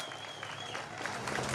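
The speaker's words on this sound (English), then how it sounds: "Give them a round of applause" Crowd at an outdoor nurses' rally on a town green applauding, a dense, fairly distant wash of clapping that swells slightly toward the end.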